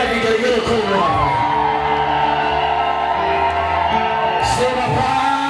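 A congregation at a church service ululates loudly and continuously, high trilling voices blending into a dense, sustained wall of joyful crowd noise with shouts rising throughout.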